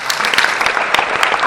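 An audience claps loudly and steadily, a dense burst of close applause filling the whole moment.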